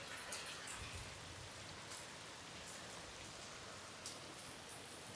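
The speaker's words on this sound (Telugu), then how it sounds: "భారీ భారీ వర్షం" Heavy storm rain pours down continuously, a dense hiss with occasional louder splashes and drips, steady throughout with no voices.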